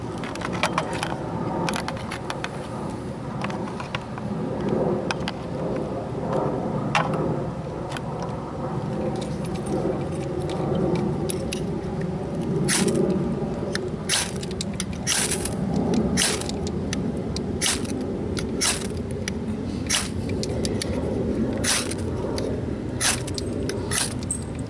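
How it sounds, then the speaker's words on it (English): Ferro rod scraped again and again with a Leatherman multitool to light pine shavings outdoors, producing sharp, close scraping strikes in irregular bursts that quicken over about twenty-five seconds. "I'm using a Leatherman as my striker"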